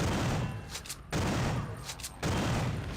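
Shotgun blasts in System Shock 2, with heavy booming shots recurring roughly every second, each leaving a loud rumbling tail, close and dominant with no talking.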